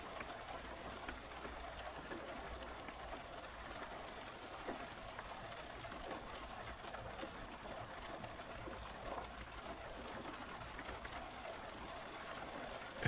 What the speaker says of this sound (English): of the rain hitting the car's roof.